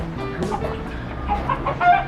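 Chickens from various farms, some imported, cluck and murmur nearby, several short overlapping calls against a busy background in Mexico City, with no speech.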